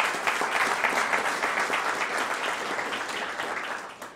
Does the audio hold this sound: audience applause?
yes